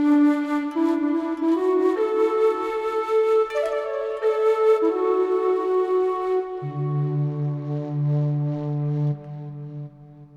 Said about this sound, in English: But what I did was use real flutes for these sounds.